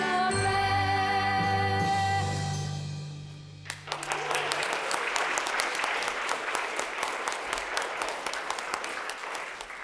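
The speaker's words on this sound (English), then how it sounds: "I think our choir and our new citizens deserve a round of applause to finish on." A choir and audience finish singing the national anthem at an Australian citizenship ceremony, then the crowd breaks into steady, loud applause that carries on for several seconds.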